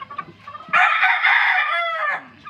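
Three-month-old native chickens give a single drawn-out, crowing-like call up close, preceded by a few soft clucks and followed by quieter murmurs.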